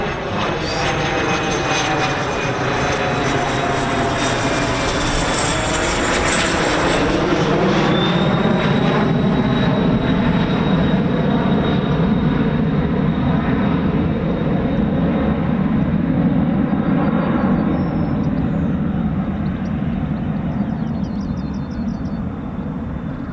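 An F-35B jet with a Pratt & Whitney engine roars loudly and close for the whole stretch, with a high whine that sweeps and shifts as the aircraft moves. No voices are heard.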